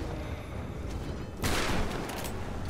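Gunfire at an enemy in the PC game Tomb Raider (2013): a muffled background rumble suddenly gives way to a loud, sharp burst of shots, then a noisy trailing decay.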